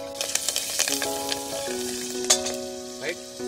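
Green chillies frying in oil for tomato rice, a close, steady sizzle with a few light clinks of a spoon against the pan, with faint voices in the background.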